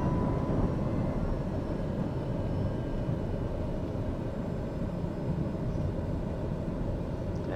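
An airliner on approach with flaps extended, heard from inside the cabin as a loud, steady low engine and airflow roar.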